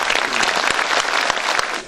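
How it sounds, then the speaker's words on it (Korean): A crowd at a Korean construction new-technology ceremony and expo claps loudly and steadily, a dense burst of applause with a few sharper hand claps standing out near the front. "제가 말씀드린 분들 한번 박수 한번 쳐주시죠"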